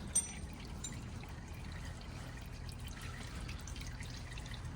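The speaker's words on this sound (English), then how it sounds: "I'm gonna position the pan here just correct, so by the time it slows down, it's still dripping in the pan." Used engine oil draining from an Acura RDX into a drain pan, a steady quiet pouring trickle with faint drips, continuous and close throughout.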